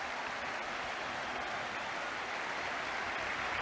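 A football crowd at a Tottenham Hotspur match in the 1977–78 season applauds at the final whistle, a steady, dense wash of clapping and cheering that holds level throughout with no single voice standing out.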